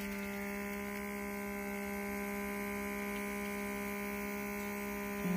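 A Food Saver handheld vacuum sealer runs with a steady, even electric hum while it pumps air out of a bag, holding constant and close for several seconds.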